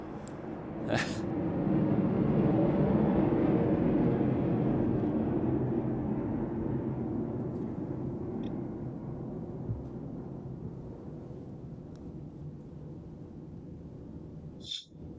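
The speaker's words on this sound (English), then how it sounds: "I think I heard another one coming." An airplane passing overhead near a Winooski planning commission meeting gives a wide, rushing roar that peaks early, then slowly fades over the following seconds, with a faint click near the end.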